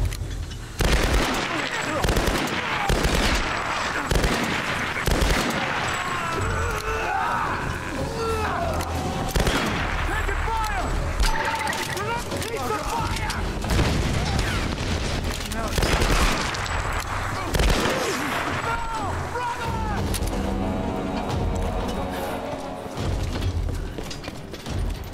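Enemy gunfire in Tomb Raider: Definitive Edition, with loud repeated gunshots and bursts of automatic fire among mechanical clatter and impacts, sustained throughout, with someone talking over the shooting.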